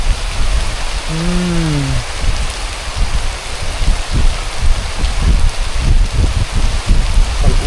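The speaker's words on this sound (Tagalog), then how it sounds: "salamat sa ulan" Steady rain falls outdoors with a dense, loud hiss and scattered patters, briefly overlapped by a short animal-like call.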